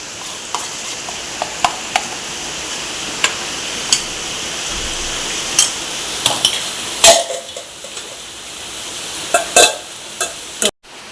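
Neer dosa cooks in a pan, a soft continuous sizzle underlaid by scattered clinks and taps of a utensil against the pan, fairly close, with no voices.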